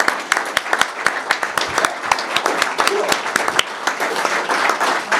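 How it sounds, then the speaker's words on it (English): An audience applauds veterans and their family members standing at a live stage event, steady close clapping with scattered crowd noise throughout. "would you please stand so we can all give a big round of applause to you?"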